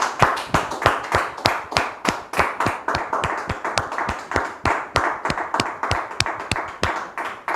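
Rhythmic, synchronized studio audience clapping at a steady beat to welcome guests onto a talk show set, fairly loud and continuous with no speech.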